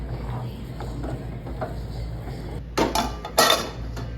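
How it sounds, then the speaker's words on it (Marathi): A lid set on a pot of semolina sheera, two sharp metallic clanks close together near the end after a quiet stretch of low kitchen noise. "पाच मिनिटं झाकण लावून ठेवणार आहे"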